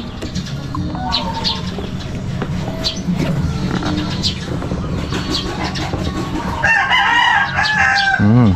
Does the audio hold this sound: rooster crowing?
yes